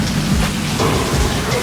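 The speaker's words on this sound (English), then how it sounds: "Rain." Steady broadband hiss of rain or dripping water echoing inside a long, widened canal tunnel, continuous and fairly loud with soft low rumble throughout.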